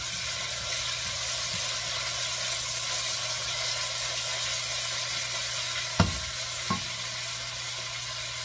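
Finely minced garlic, onion and tomato sauté in a hot pan, giving a steady close sizzle throughout, with two brief knocks of a utensil near the end.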